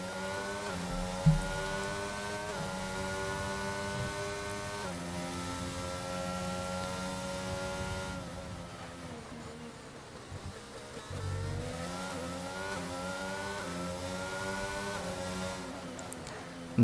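An Aston Martin race car in a racing game howls through its gears, the engine note climbing in rising sweeps and dropping at each shift, then pulling hard again out of a corner at the Azerbaijan Grand Prix.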